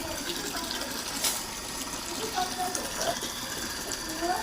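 Polluted drinking water runs from a tap in Viramgam's Ward 1, a steady, close rushing and splashing that continues without a break, with faint voices in the background.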